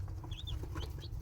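Baby chicks from a hatchery peep in short high chirps scattered over a steady low rumble of background noise, close and moderately loud.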